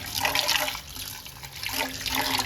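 Water splashing steadily into a vessel of soaking basmati rice, continuous and fairly close, with two louder surges of pouring.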